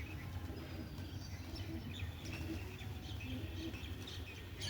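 Pigeons call softly amid a faint outdoor wash under rain clouds, scattered chirps and coos over steady low background noise with no voices.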